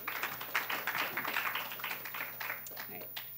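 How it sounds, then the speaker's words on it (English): Audience at a nanoscience lab summer institute final presentation applauding a presenting team, a moderate round of clapping from a room of people, fairly even and continuing throughout. "Let's give them a round of applause"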